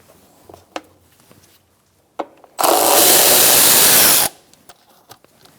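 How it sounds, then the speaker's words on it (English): A power tool fitted with a T27 Torx bit runs in one loud, steady burst of about two seconds while removing bolts from the inner fender liner of a 2012-2018 Ford Focus, with faint clicks and handling noise before and after. "again using the T27 Torx bit, we're going to take out these two bolts."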